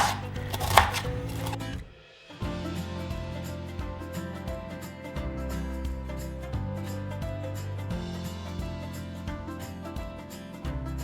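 A knife chops broccoli rapidly on a cutting board, a run of quick, evenly spaced strikes over steady background music, after a brief pause near the start.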